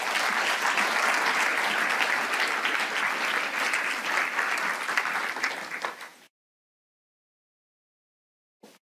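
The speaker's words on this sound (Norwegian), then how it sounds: "jeg vil også dere ønske henne velkommen opp på scenen med en god applaus" Dense audience applause at a climate conference in Viken welcomes Monica Myhrvold Berg to the stage, steady and full for about six seconds before cutting to silence, with a brief faint burst near the end.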